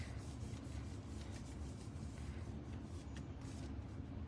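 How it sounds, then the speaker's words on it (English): A hand rubs the back of decorative designer series paper to press it down onto a card: a soft, continuous dry brushing and scuffing close by, quiet and steady throughout, with no voices. "I'm going to put it down, and then I'm just going to give it a rub on the back."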